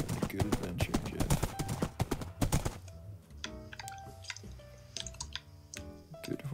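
Horse hooves clip-clop in the Minecraft video game, a rapid run of dense clicks that thins into sparser, spaced steps, mixed with other game sounds.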